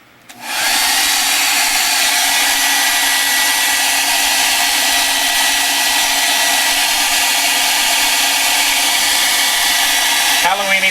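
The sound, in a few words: hair dryer drying an art journal page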